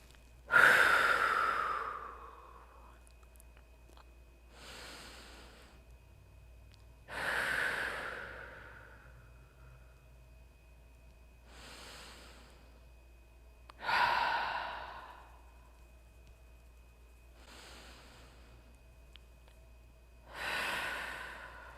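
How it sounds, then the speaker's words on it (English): Deep, slow recovery breaths after an exercise session, each loud exhale alternating with a softer inhale in a steady rhythm, close and breathy with no talk. "we'll just take 5 to 10 deep breaths here"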